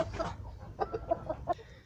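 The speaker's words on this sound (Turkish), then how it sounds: "İsterseniz şimdi tavukları oradan dışarı salalım" Chickens in a mixed backyard coop give a quick series of short, close clucks, about half a dozen sharp calls in an uneven rhythm over a low background rumble.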